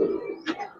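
Pigeons in a small loft give a brief low cooing murmur, soft and close, ending with a short brighter rustle.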